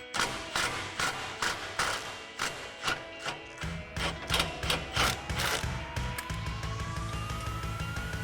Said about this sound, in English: So I've got a 13 millimeter swivel socket on an extension to pop this off.